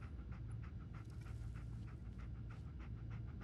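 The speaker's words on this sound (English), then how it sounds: "You seem to be panting like a dog." A character in the video game Fallout 4 pants rapidly like a dog, a steady rhythmic breathy huffing that continues alone for several seconds.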